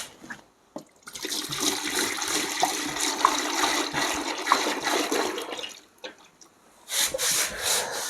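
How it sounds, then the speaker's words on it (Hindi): DP oil pours into a bucket as a continuous liquid rush lasting about five seconds, followed by a brief lull and then a second, shorter splashing pour near the end. "अब हम लोग इसमें क्या डीपी ऑयल 2 kg डालेंगे।"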